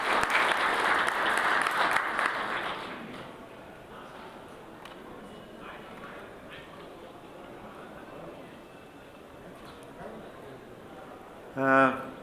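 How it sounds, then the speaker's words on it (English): Audience applause for a speaker at a conference session, fairly loud for the first few seconds and then thinning to a low murmur, with a brief burst near the end. "Please give him a round of applause."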